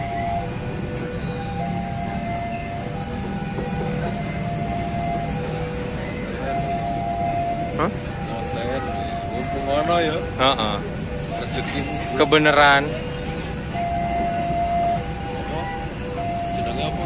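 A train shunting at Yogyakarta station idles and creeps along, low rumbling locomotive engine with squealing wheels and clanks, while people talk nearby.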